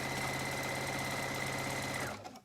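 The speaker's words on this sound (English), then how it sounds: "On the sewing machine, flatten it" A sewing machine stitches fabric for a pair of men's boxers, running in a steady, fast, even whir with a constant hum, then stopping abruptly near the end, close and loud with no voices.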